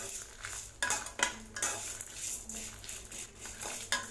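Tamarind and cumin are sautéed in a pan for a bitter gourd chutney, with a utensil clinking and scraping against the metal in irregular strokes over a faint sizzle, close but fairly quiet.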